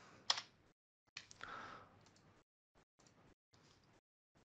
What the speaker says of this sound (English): I type in 20.